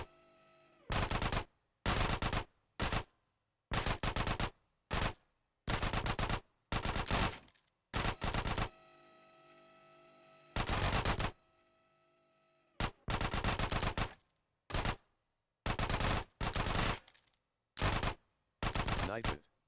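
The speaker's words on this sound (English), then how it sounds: "I just switched over to the SMG." Micro SMG fire in the video game GTA San Andreas, loud rapid automatic bursts of varying length with short gaps of quiet between them.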